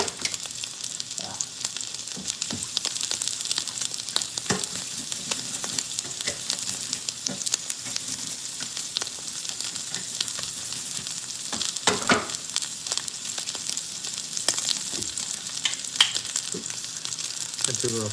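A ribeye steak searing in a hot pan, giving a continuous close sizzle and crackle with occasional sharper pops, steady throughout and without talk.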